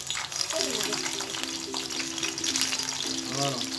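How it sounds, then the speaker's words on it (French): A veal roast with thyme frying in a pan, giving a steady, close sizzle that runs throughout while a voice hums or speaks briefly over it. "C'est juste pour le faire frire."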